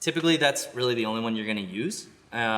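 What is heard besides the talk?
None of the usual background noises is heard.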